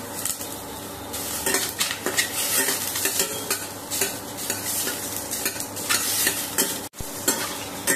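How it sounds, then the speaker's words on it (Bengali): Two shingi catfish fry in a little oil in a kadai, crackling and sizzling steadily while a metal utensil scrapes and clinks against the pan. "অল্প একটু তেল দিচ্ছি মাছটা ভাজার জন্য, মাছ দুটো দিয়ে দিলাম"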